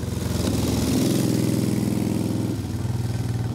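A 1930s Brough Superior 990cc V-twin motorcycle engine runs close and loud with a lumpy, pulsing beat, briefly rising in revs before settling back to a steady throb.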